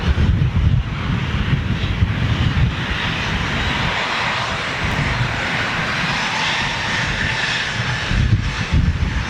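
A Jet2 Holidays Boeing 737 with polished engine cowls roars steadily at Manchester Airport, a loud sustained rumbling engine wash with wind buffeting the microphone, no voices.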